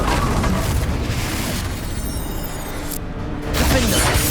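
Confringo blasting spell in the video game Hogwarts Legacy, a loud booming explosion with shattering debris and rumbling that lingers, then a second burst near the end.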